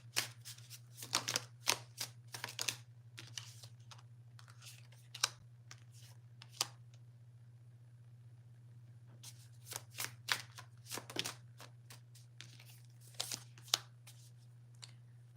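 Tarot cards shuffled in bursts of quick, crisp riffling clicks near the microphone, pausing for a few seconds midway, over a constant low electrical hum.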